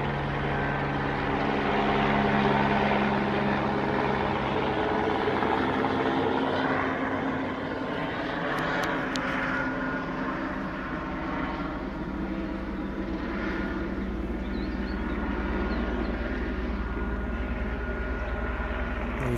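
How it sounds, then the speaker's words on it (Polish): A helicopter fitted with a frame and radar equipment flies overhead, a loud continuous rotor and engine drone that swells early then slowly fades while staying steady. "Jakiś helikopter z jakąś ramą, radarami latają tu nad nami."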